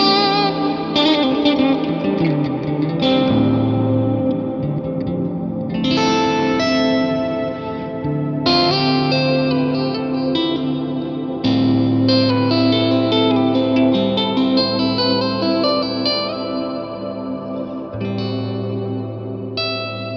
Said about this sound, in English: it's just putting that space between the core guitar sound and the big washy reverb.